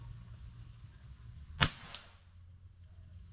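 Single sharp shot from an air rifle firing a pellet at a paper target about 55 yards away, a crisp crack with a faint impact after it, in quiet surroundings.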